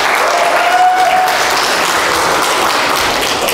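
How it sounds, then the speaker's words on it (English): A church congregation gives itself a round of applause during a Sunday morning service, loud dense clapping throughout that tapers slightly toward the end. "Go ahead and give yourselves a round of applause."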